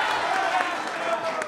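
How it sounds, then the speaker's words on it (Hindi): Studio audience applause during a televised Lok Sabha election debate, a steady dense wash of clapping lasting the whole moment with a voice running over it. "आपका जोरदार तालियों से एक बार फिर अभिनंदन है"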